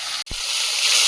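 Fish frying in hot oil gives a steady, bright hiss of sizzling with a brief dip and a small pop or spatter near the start, close and continuous throughout.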